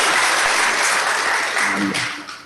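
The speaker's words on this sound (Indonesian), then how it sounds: "Tepuk tangan Pak" An audience at a press conference for a surfing competition breaks into loud, dense applause that holds steady, then eases slightly toward the end.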